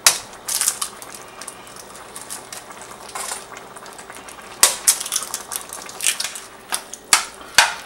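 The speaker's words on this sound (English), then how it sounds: "what I'm going to do is I'm going to scramble 4 eggs in this mixture" Four eggs scrambled into a simmering burrito filling in a pan over turned-up heat: a steady soft sizzle with scattered crackles and sharp utensil clicks and scrapes, louder toward the end.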